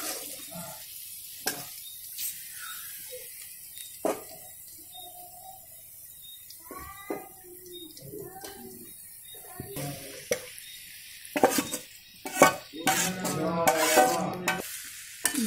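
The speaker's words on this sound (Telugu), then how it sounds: "ఇప్పుడు బీరకాయ ముక్కలు యాడ్ చేసుకుందాం." Ridge gourd pieces go into a frying pan with turmeric and are stirred. Scattered spatula scrapes and clatters rise to a busier burst of stirring and sizzling near the end.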